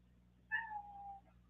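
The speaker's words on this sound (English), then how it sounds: "Why are you meowing?" A house cat gives a single drawn-out meow, faint and alone against a quiet indoor background.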